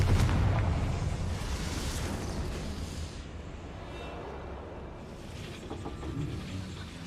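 Confringo spell explosion in the video game Hogwarts Legacy, a loud fiery blast that erupts at once and then trails off into a long rumbling decay.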